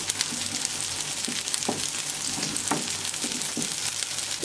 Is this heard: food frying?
yes